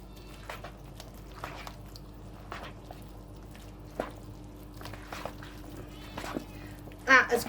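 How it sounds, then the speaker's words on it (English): A pet cat meows in the background of a home kitchen during cooking, giving a single short, fairly clear call at the very end after several seconds of faint clatter and low room noise. "Now I've got Smarty Cat making noises in the background."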